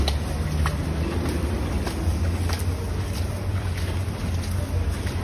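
Water sprayed onto the hot walls of a tandoor oven gives a steady broadband hiss and spatter, continuous and fairly close, with no talk over it.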